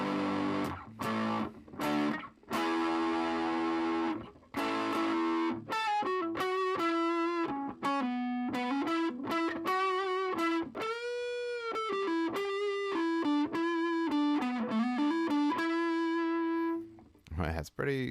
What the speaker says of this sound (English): Let's keep that distortion going up a little bit more.